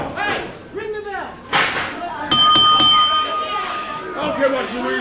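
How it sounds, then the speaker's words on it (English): A ring bell at a wrestling match clangs in rapid strikes, loud and bright, while a noisy crowd shouts around it and a voice calls out over the din. "Ring the bell."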